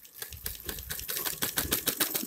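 A sewing machine stitches a straight seam on a kurti made from leftover fabric, its needle running in a quick, steady clatter of even beats that speeds up slightly toward the end.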